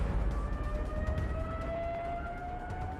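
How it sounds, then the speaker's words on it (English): A Stuka dive bomber's siren wails with a steadily rising howl over a dense, roaring engine and wind rush, loud and continuous throughout the diving attack. "It's a siren that makes a horrendous noise when the aircraft starts its dive."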